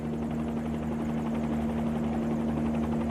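Bell 47 helicopter climbing in forward flight in a flight simulator, a steady droning engine and rotor hum with a strong constant tone, continuous and close.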